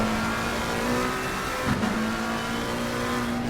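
McLaren GT race car engine in Assetto Corsa Competizione at Bathurst, a steady high-revving drone held loud and close throughout, with a brief pitch wobble midway as the car shifts or lifts.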